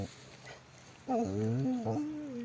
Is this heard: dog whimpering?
yes